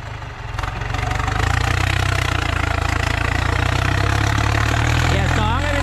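A 6640 farm tractor fitted with a Holset HX40G turbocharger, in first gear pushing soil, runs with a loud, steady engine roar that builds within the first second and then holds close and unbroken to the end.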